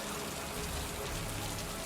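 Rain falls inside the video game Heavy Rain, a soft, constant hiss of drops that stays quiet and unbroken for the whole short stretch.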